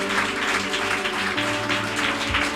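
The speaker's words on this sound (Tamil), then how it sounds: "கையை தட்டி அவங்களுக்கு ஒரு வரவேற்பு கொடுக்கலாம்." An audience in a Christian worship meeting claps to welcome a guest, a dense continuous patter of hands over sustained background music.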